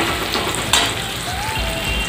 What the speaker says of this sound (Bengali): পেঁয়াজ আমার হালকা হালকা ভাজা হয়ে গেছে